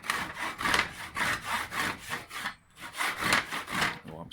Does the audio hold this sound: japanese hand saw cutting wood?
yes